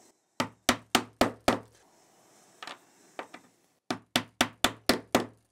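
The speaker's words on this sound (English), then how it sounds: "That's why I'm using a plastic hammer just to get it in more easily." A plastic hammer taps a rod into a bearing while a 3D-printer filament drybox is being assembled: two bursts of five or six sharp, evenly spaced knocks, close and crisp, with a few softer taps in the gap between them.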